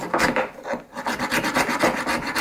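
A Brisa Trapper 95 knife scrapes outdoors in steady, rapid back-and-forth strokes, producing a loud, close, rhythmic rasping with one brief break partway through.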